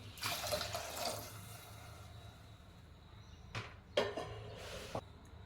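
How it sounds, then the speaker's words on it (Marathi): Water pours into a pot of cooked dal in a steady splashing stream for about two seconds, followed by a few short knocks and clinks of kitchenware. "आवश्यकतानुसार पाणी टाकूयात"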